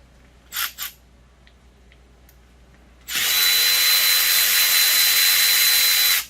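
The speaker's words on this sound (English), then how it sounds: "I'm just going to take the bolt off." A power impact tool runs in one loud, sustained burst of about three seconds while a bolt is removed during brake service on a 2007 GMC Yukon XL, after a few quiet metallic clanks.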